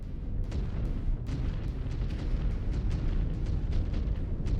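A mech blowing up as it is destroyed in Mechwarrior 5: Clans, a dense rumbling explosion with crackling debris bursts layered over a deep continuous roar, loud and close throughout.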